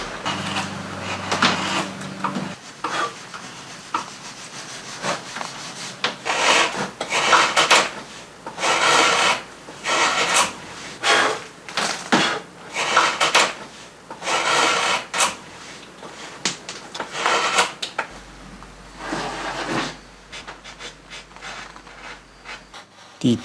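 Wooden doors being carved by hand in a local workshop on the Darss, with steady rasping, scraping and rubbing strokes in irregular bursts, close and fairly loud, no talk.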